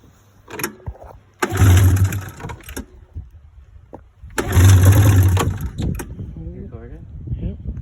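A 2000 XC 700 snowmobile engine being pull-started, two loud rasping bursts of cranking, each lasting about a second and a half, with quieter rattles and a voice in between.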